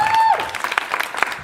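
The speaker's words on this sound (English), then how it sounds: "can we give another massive round of applause for Claire, please?" Audience applause at a poetry reading during a pop-up launch event, a scattered patter of clapping following a brief tonal note, moderately loud and close, with faint voices mixed in.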